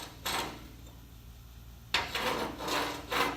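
A chipping hammer dragged along the edge of a weld to break slag loose, two scraping passes close by, each a harsh rasping rub, with a short pause between them.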